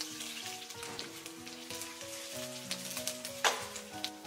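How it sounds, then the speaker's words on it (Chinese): Sea bass pieces sizzle and crackle steadily as they pan-fry in oil in a wok, a close, continuous frying hiss with occasional pops and faint clinks. "一面煎好以后，我们再煎另一面，把鱼块煎至两面金黄焦香"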